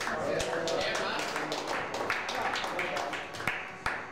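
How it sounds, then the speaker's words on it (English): Clapping from the audience at the Australian 10 Ball Championships 2013 final, a scattered patter of hand claps with a few sharp, distinct claps near the end. It plays under steady talking. "Put your hands together and give yourself a round of applause"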